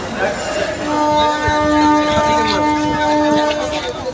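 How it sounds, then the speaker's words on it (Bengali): Trains at Udaipur railway station in Tripura, with a sustained horn or whistle tone holding steady for several seconds over busy station rumble and background voices. "চলো চলে আসলাম আমরা উদয়পুর রেলওয়ে স্টেশনে"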